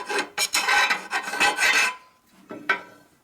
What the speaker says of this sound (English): so even though it's a flat file, it'll still deburr.